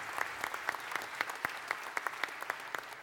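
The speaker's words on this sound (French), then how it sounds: "On peut l'applaudir." Light applause from an audience at an evening lecture event, a thin, steady patter of individual claps heard at a distance, fairly quiet and without voices.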